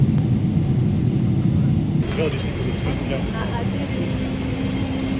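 Inside an airplane cabin as it comes in to land, a steady loud engine and air rumble continues throughout, with a change in the drone about two seconds in and a faint tone above it.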